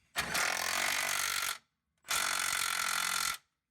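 A nut is run in on the front end of a Suzuki SX4, where it sits loose on a spot weld. A power tool fires in two loud, even bursts of about a second and a half each, separated by a short silence.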